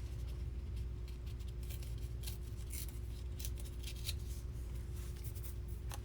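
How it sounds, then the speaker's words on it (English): Book page paper torn by hand for an envelope folio, giving scattered crisp rips and rustles over a steady low background hum, with no talking. "I'm going to tear this off down at the bottom here"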